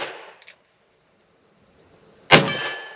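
A handgun round strikes a large round steel target, giving one sharp metallic clang that rings and fades, preceded by a faint earlier knock and near silence; no speech.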